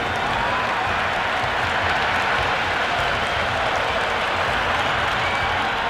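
Stadium crowd in the cricket video game Cricket 26 applauding and cheering at a Sydney Test between India and South Africa, a steady, dense wash of clapping and crowd noise that holds evenly throughout.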